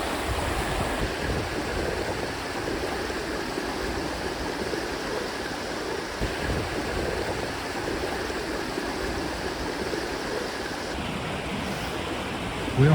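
The River Dane flows past a tree-lined bank at a bend, giving a steady, close rushing and burbling of water that stays even throughout, with no voices.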